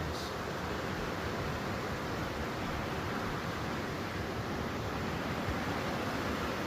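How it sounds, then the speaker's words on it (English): Steady rushing water pours without pause from a small waterfall in a stream flowing into the Pierce Pond River, a broad continuous splash like a small cascade, fairly close and unbroken throughout. "here's a cool little waterfall coming down the stream to join the Pierce Pond River."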